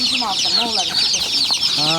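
Chickens and chicks at a poultry market in a bazaar: constant high-pitched chick peeping with clucking hens underneath, near and busy, with brief talk mixed in.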